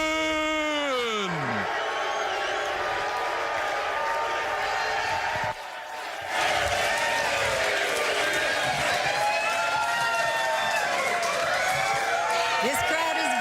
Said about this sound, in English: This crowd is very excited